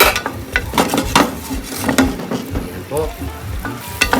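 Chopped onion sizzles and fries in a pan for a Filipino pinakbet dish, with a steady crackling hiss and a few stirring scrapes and clinks of utensils, close and continuous.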